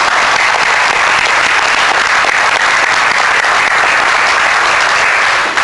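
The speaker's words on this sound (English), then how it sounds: "So let's give them a round of applause." An audience at a university system board of regents meeting applauds steadily, a dense, even wash of clapping from many hands that holds throughout with no talking over it.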